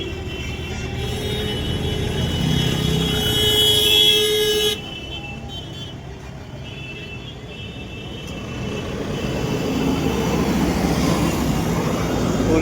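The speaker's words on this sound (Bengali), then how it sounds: "Kolkata traffic jam." Traffic in a Kolkata jam makes a continuous roadside rumble of engines with a few scattered horn toots, loud and close, without speech.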